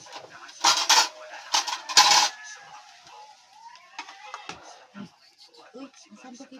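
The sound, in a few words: scooping cooked rice with a serving spoon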